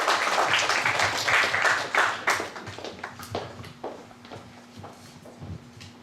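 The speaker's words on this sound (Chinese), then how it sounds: "小朋友们热烈的掌声" Children applauding at a school gathering, a dense burst of clapping that thins into scattered individual claps and fades, with a faint voice late on.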